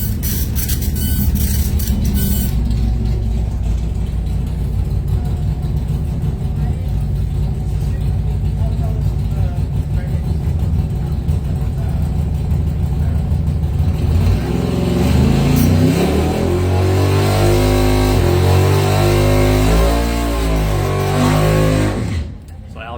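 Drag racing cars roar at a strip during round 3 of 2021 eliminations, a loud sustained engine blast that climbs in pitch as they accelerate, with a voice faintly under the noise.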